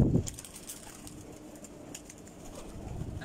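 Pigeons in a loft giving soft, low cooing under faint ambient noise, with a brief flutter at the start and steady outdoor hum throughout.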